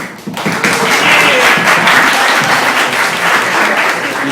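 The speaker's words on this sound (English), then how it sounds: "So, round of applause" A barcamp audience bursts into dense, sustained applause that starts abruptly and stays loud and steady, with a voice or two faintly mixed in.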